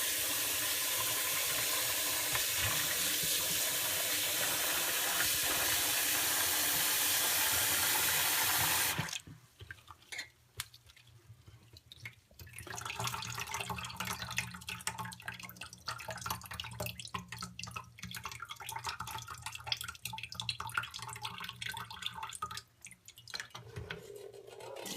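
Tap water runs hard onto fresh paneer being rinsed for rasgulla, a loud continuous gush that stops abruptly, followed by quieter drips, splashes and handling sounds in a sink.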